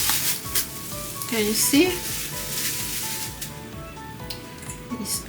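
Hot oil for onion hair butter sizzles loudly and continuously, a dense crackling hiss that sits under a brief spoken voice and some quiet tonal background sound.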